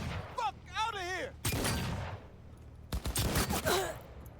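Bursts of gunfire during a four-against-one shootout in Cyberpunk 2077, loud rapid volleys arriving in two clusters with groans and voices around them.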